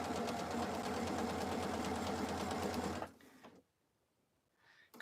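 A home sewing machine stitches Christmas tea towels at a smooth, steady, close whirring hum for about three seconds, then stops, leaving faint quiet handling noise.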